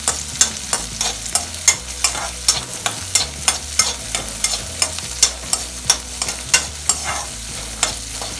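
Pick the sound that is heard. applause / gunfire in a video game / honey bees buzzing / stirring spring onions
stirring spring onions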